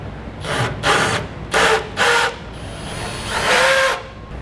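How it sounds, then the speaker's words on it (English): Power tool deburring freshly drilled holes in a 2013 Ford vehicle frame during an air compressor install, several short whirring bursts with pauses, then a longer final run, close and fairly loud. "we want to take just a second and clean up any burrs or sharp edges that might be on them there"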